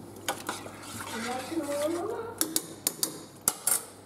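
A spoon stirring and mixing in a pot, with several sharp metallic clinks and scrapes in quick succession, close by, following a stretch of quieter, muffled movement, with a voice faintly present.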